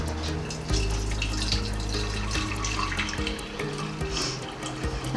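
Brewed coffee pours steadily through a strainer, a continuous close liquid stream and splash running for several seconds with a brief bump partway through.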